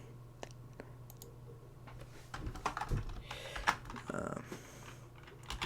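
Quick bursts of clicky key presses on a computer keyboard, a few isolated taps early then a denser run of typing in the middle, close but fairly quiet over a low steady room hum.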